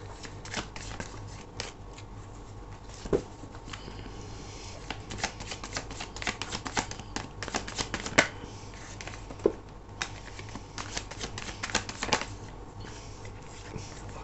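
Rapid crisp riffling and flicking of tarot cards being shuffled and drawn in quick bursts, with soft taps and slides between them, close and fairly quiet.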